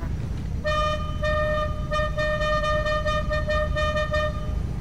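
Car horns honk in the GTA 5 video game, a harmonic toot that blares steadily for several seconds with brief breaks, loud over a rumbling engine and traffic bed.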